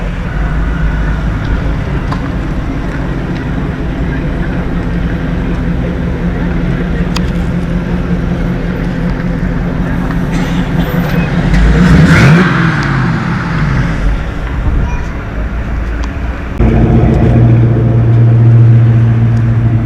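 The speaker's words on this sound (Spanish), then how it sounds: "Qué ralentí más bonito tienen esos motores V8 antiguos." An old V8 engine's deep, steady idle rumbling nearby on Route 66 with a low, uneven throb, joined by a passing vehicle and a shift in tone near the end.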